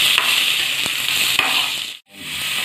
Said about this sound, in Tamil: தக்காளி கொஞ்சம் நேரம் வணங்கிட்டோம்